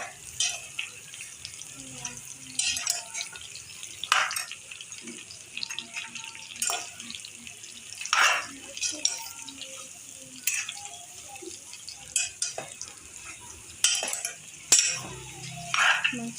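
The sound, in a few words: mixing washed potato pieces in a pan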